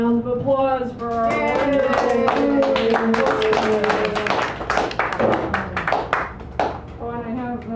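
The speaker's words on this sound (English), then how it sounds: "please join me in giving Teddy and Fiona a round of applause" An audience at a poetry open mic in a San Francisco cafe claps for two performers, with scattered hand claps mixed with a speaking voice that continues over the applause.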